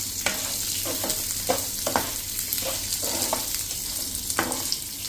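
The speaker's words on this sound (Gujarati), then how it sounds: "અને સાથે જ રોસ્ટ કરી લેશું." Onion and chillies roast in a pan with a steady sizzle, while a spoon scrapes and stirs in several short, distinct strokes close by.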